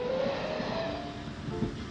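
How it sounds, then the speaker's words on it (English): Animated train running along an imaginary branch line, steady rolling rumble with a faint sustained whistle-like tone, passing another train at a station and a level crossing, continuous and moderately close. "passing another train in a station and yet another train on the level crossing beyond it"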